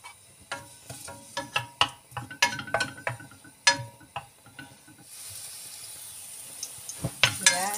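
Chopped garlic sautéing in hot oil in a pan for vegetable lumpia filling, with repeated sharp clinks and scrapes of a utensil stirring, then a steady close sizzle.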